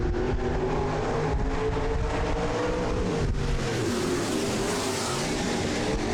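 Race cars come out of a turn at the start of an eight-lap heat, a dense, loud engine roar from several cars that swells and shifts as the pack passes, with no talk.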